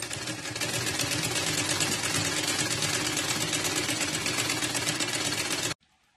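A sewing machine stitches a saree fitting in one continuous fast, even run of mechanical rattling, close and steady, stopping abruptly near the end.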